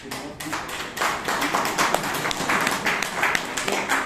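An audience at a Toastmasters meeting in Bangalore gives a short round of clapping, a dense moderate patter of many hands that swells slightly and continues steadily to the end.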